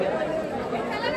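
A crowd queues at the Ekvira temple, making a dense, continuous murmur of many overlapping voices close by.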